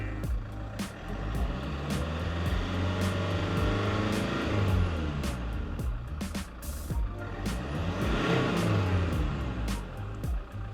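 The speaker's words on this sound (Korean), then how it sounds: "제일 중요한 엔진 출력을 올리고 났을 때 엔진의 잡소리가 나는지" A warmed-up Land Rover Freelander 2 engine on a used-car test drive is revved repeatedly, its pitch sweeping up and falling back to idle in several rises over about ten seconds, close and loud with no talk.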